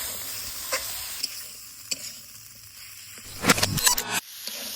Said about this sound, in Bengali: এবার ভালো করে সব মশলাপাতির সঙ্গে ভালো করে একসঙ্গে কষে নিব।